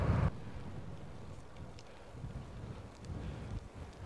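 Steady wind buffets the microphone with a low, rumbling roar that swells and eases, a louder gust at the very start, in the Morvan hills of France; no voices.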